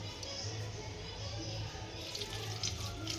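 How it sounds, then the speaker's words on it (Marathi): Water runs steadily from a tap, splashing continuously over cut eggplants in a vessel at moderate volume, with a faint low hum beneath. "आता मी ही वांगे त्याच्यात पाणी टाकून घेत आहे"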